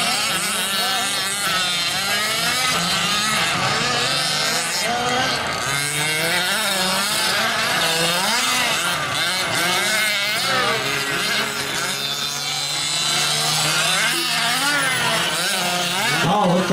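Several electric RC 4WD buggies race around an expert-class track, their motors whining and warbling continuously at close range, with a race commentator talking over the steady buzz throughout.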